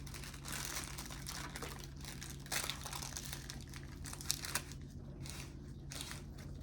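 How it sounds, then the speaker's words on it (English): Wax paper crinkles and rustles steadily as it is pressed over a full jar of vanilla beans, with a few sharper crackles, close up and alone over a low steady hum. "We're going to put the wax paper on this."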